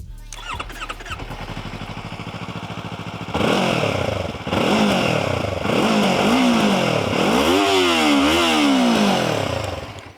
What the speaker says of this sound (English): The Japanese parallel twins all sound more or less the same, but it is a good sound.